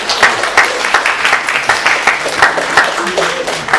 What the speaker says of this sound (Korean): 다 같이 박수로 축하하겠습니다.